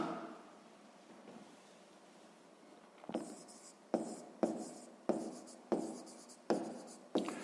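Pen handwriting on paper during a sixth-grade math exercise, a faint quiet stretch followed by a series of distinct close scratchy strokes in a steady rhythm, with no voices.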